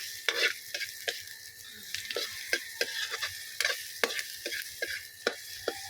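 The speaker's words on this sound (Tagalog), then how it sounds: "nag-brown na yung ating bawang at saka yung ating sibuyas" Garlic and onion sautéing in a pan for a mixed vegetable dish, with a steady sizzle broken by repeated sharp scrapes and clacks of a spatula stirring, close and alone without talk.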